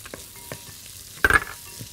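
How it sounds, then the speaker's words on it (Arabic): Onion and garlic sauté in a pan under a faint, continuous sizzle. One loud scraping burst of stirring comes just past the middle, with a few lighter taps around it and no voices. "هحط البصل واقلبه هحط الثوم"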